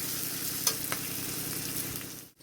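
Potatoes for a crispy aloo fry sizzle in hot oil while being stirred, an even close frying hiss with a couple of soft scrape accents and a quick drop at the very end.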